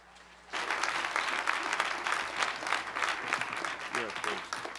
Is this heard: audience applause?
yes